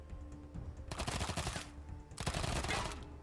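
Two dense bursts of gunfire crack out in a Wasteland 3 firefight, each lasting under a second and separated by a short lull, fairly close and loud with no talk.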